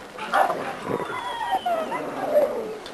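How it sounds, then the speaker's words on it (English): Dogs bark in a kennel yard: four or five sharp barks and yips at uneven intervals over a steady outdoor background, fairly close and moderately loud. "This is our Thunder Dog"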